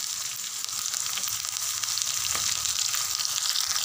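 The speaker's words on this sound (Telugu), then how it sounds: "పచ్చిమిరపకాయలు వేగినాక శుభ్రంగా కడిగి పక్కన పెట్టుకున్న తోటకూర వేయాలి" Amaranth leaves hitting a pan of frying green chilies, garlic and dried red chilies give a steady, close, dense sizzle with a few stirring scrapes, no voices over it.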